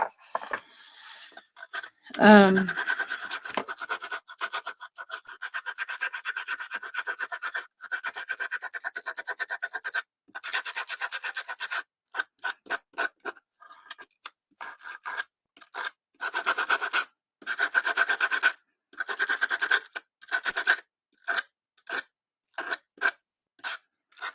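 Sandpaper rubs over a distressed wooden vignette in a long run of short scraping strokes, close and moderately loud, the rhythmic bursts separated by brief pauses.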